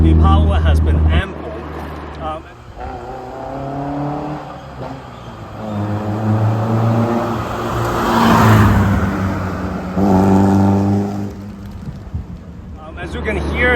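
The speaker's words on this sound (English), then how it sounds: "As you can hear, it's quite it sounds quite good, feisty car." A 1965 Triumph Spitfire Mk 2, a roughly 70-horsepower car, accelerates with its engine rising and falling through several surges, heard from inside while someone talks over it.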